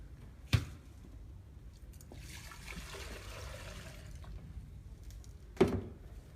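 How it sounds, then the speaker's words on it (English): Water is poured into a floral arrangement container in a showroom, a soft steady trickle and splash between two sharp knocks as the vessel or jug is handled, faint and close with no talk. "We need to put some water in,"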